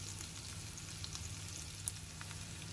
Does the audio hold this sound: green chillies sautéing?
yes